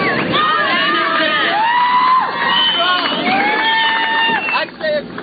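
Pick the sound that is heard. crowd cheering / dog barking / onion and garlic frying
crowd cheering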